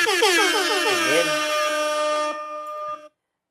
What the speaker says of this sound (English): Let me look for the air horn.